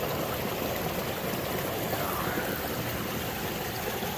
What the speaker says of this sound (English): Gold Hog stream sluice running real good today.